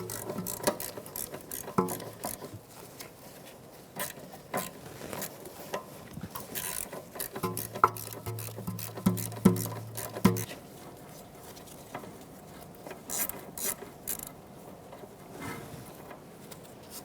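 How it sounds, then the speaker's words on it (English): A ratchet and socket work a mount bolt loose on a 2013-2018 Toyota RAV4, giving rapid metallic clicking and rattling that comes in uneven bursts over a continuous workshop background, with no talking. "I'm going to take a socket, take that mount out."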